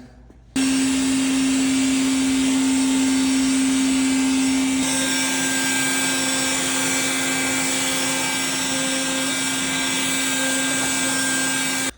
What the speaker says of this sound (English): I'm gonna go grab a vacuum.